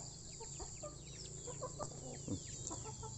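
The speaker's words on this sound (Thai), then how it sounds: "ไก่ก็มาแล้วดิ" Several chickens cluck and chirp close by on a farm in a busy, irregular chorus, with a steady hum in the background and no speech.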